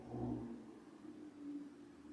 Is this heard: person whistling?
no